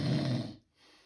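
A voice imitates turbulent nasal breathing with one short, rough, hissing snore-like exhale, loud and close, then a faint breathy tail after a brief gap.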